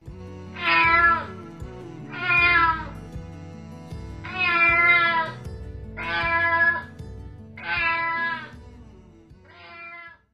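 A cat meows six times in an evenly spaced series, each call close, clear and fairly loud, with short pauses between and no other sounds.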